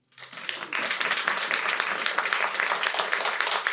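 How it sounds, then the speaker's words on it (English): An audience claps for the organizers of a live poetry and comedy event, steady dense applause swelling quickly after a brief silence and holding at an even level throughout. "Clap it up for them."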